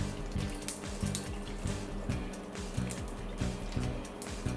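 Water poured into a plastic storage container holding sugar, dish soap and ice cubes for a cleaning hack, a steady splashing pour with faint clinks, close and alone.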